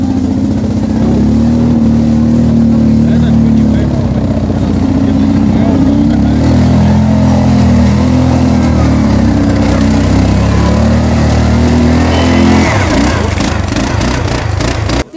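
Off-road vehicles and ATVs race through a boggy marsh ravine at a trophy raid, their engines droning and revving loudly and continuously up close, with some accelerating surges near the end.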